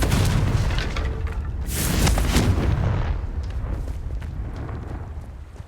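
A Confringo fire spell explodes in the Hogwarts Legacy video game, a loud booming blast swelling around the middle and rumbling away slowly, with no talking.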